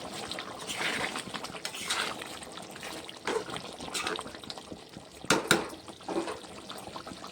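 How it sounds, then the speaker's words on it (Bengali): Dishes and pots washed in a kitchen under running tap water, with trickling and splashing, soft clinks and a couple of sharper knocks, fairly close and moderately quiet. "বাসন বর্তনও ধুয়ে নিলাম"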